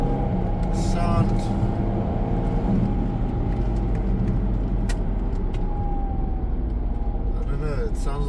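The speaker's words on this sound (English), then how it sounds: "I don't know, it sounds like a V6." A 2010 Mercedes ML350 CDI engine runs with a steady, low, continuous hum close by, while people talk over it.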